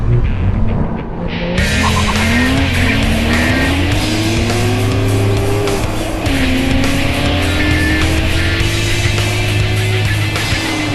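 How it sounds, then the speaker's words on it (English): A stock Nissan GT-R and a stock Porsche GT3 launch in a drag race, loud engines climbing through rising pitch sweeps with gear-shift drops, heard continuously over strong wind-like roar. "Now it's time for a drag race."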